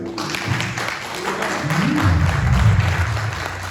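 Church congregation applauding during a sermon by Pastor Achille Koukpaki, a steady broadband patter lasting the whole stretch, mixed with low voices and room sound underneath.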